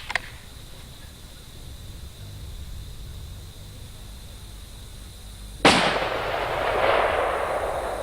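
A single sharp, loud rifle shot during a chronograph velocity test, close by, with a hard crack followed by a long rumbling decay after a quiet stretch.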